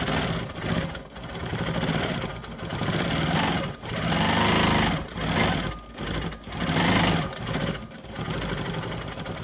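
A domestic sewing machine runs steadily while free-motion quilting a maple leaf quilt block, its motor whirring loud and close in long bursts broken by short pauses as the stitching stops and restarts.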